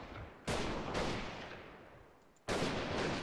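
Rifle shots from the guerrilla warfare game Freeman, three loud sharp cracks, each followed by a long fading echo, the last one abrupt near the end.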